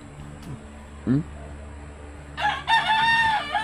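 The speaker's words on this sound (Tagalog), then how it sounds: "marami parang manok dyan" A rooster crows loudly near the end amid a few short clucks, with a steady background hum and some faint voices.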